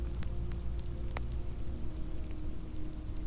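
Steady rain falls continuously, a dense soft patter with a few brighter drops standing out, no voices present.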